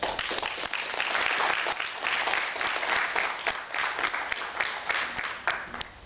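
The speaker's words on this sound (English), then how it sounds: "if you could give a round of applause for our guests" An audience applauds panel guests at a talk on COINTELPRO and the Revolutionary Action Movement, dense steady clapping sustained throughout and fading slightly at the end.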